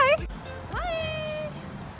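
A cat gives two clear, close meows, a short one followed by a longer drawn-out call, on a city outing.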